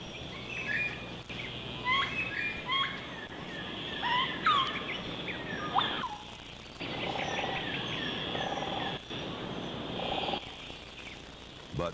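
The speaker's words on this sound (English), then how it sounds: "In these high altitudes, there are even parrots, like these plum-faced lorikeets." Plum-faced lorikeets call in high-altitude New Guinea mountain forest, giving bursts of shrill chirps and squeaky whistles over a low rumbling background, some calls close and others fading in and out.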